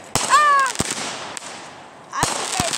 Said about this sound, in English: Look at all those fireworks.